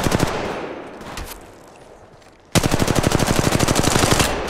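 Rapid automatic gunfire in the mobile battle royale game Apex Legends Mobile: a scattered burst of shots at first, then after a brief lull a dense, loud, steady stream of rounds through the second half.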